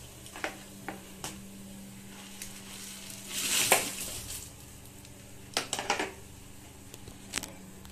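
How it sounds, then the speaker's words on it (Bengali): Noodles and vegetables being stirred in a pan, with scattered metallic scrapes and clinks of a spatula against the pan over a steady low hum, one longer rustling scrape in the middle. "এবার এটাকে আমি এবার ভালোভাবে নাড়িয়ে দেব।"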